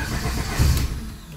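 Honda car engine cranking and catching after a cam gear change, a short mid-pitched churn with a brief surge into a rough running rumble, close and fairly loud.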